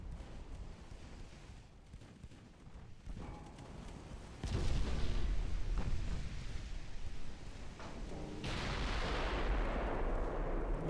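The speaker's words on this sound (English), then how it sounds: "Massive hit with the guns." Warship main guns firing in the naval game Ultimate Admiral Dreadnoughts, heavy booming blasts that swell into sustained rumbling roars, loud and continuous with no voices.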